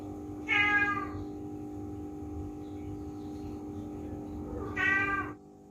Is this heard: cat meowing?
yes